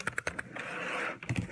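Keys clack on a new gaming keyboard with a light toggle button and fancy arrow keys, a quick run of close, crisp taps, then a brief scraping rustle and a few more strikes.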